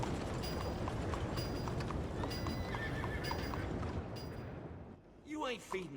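An Arabian horse in Red Dead Redemption 2 clops steadily on hooves over busy game ambience, then lets out a clear, close neigh near the end.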